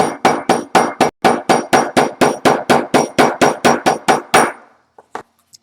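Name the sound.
polished hammer tapping leather stitching flat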